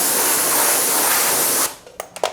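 A pressure washer hisses in a loud, steady blast while rinsing dirty wheel-cleaning tools, then cuts off abruptly, leaving a few short spatters and drips.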